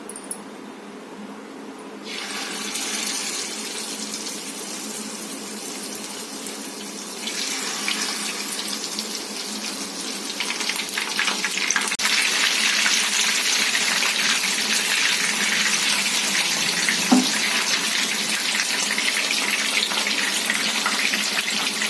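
Pieces of marinated fish are lowered into heated oil for a Tamil-style fish fry. A close, steady sizzling hiss begins and grows louder in stages as more fish goes into the pan.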